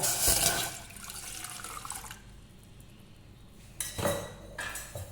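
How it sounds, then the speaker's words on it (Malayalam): Water pours into a pot of chicken stock in two bursts, a longer splashy stream at first, a quiet pause, then a shorter pour, with faint kitchen clatter. "ഒരു ഗ്ലാസ് വെള്ളം കൂടി ഒഴിക്കുന്നുണ്ട്"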